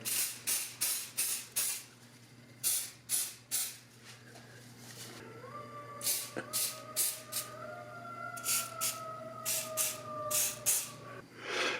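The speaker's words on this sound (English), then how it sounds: "So we'll get them close together and we'll give them a spray." Several short bursts of aerosol spray hissing in close succession onto a Singer 221-1 sewing machine, pausing, then resuming in rapid puffs, with a faint steady hum beneath.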